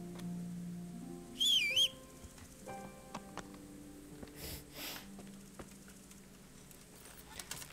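A short whistle rings out to call a horse in Kingdom Come: Deliverance, a brief warbling tone heard alone early on, followed by soft clicks and faint ambient game sounds.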